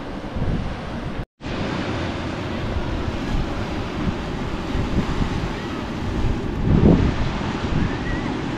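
Steady wash of small, continuous waves rolling onto a beach, with gusty wind buffeting the microphone throughout; one brief dropout early on.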